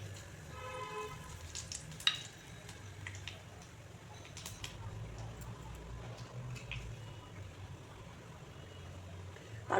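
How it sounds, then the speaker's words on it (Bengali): Black cumin seeds and two dried chillies hit hot white oil with a soft, steady sizzle, faint and close, broken by a few small clicks and pops. "তেলটা গরম হয়ে গেছে, আমি ফোড়নে কালো জিরা আর 2টি শুকনো লঙ্কা দিয়ে দিচ্ছি।"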